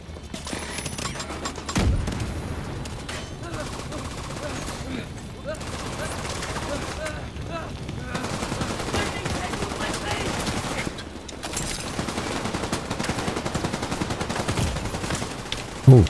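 Rapid bursts of gunfire in the video game The Division 2 crackle almost continuously, close and loud, with brief pauses and a sharp burst near the end.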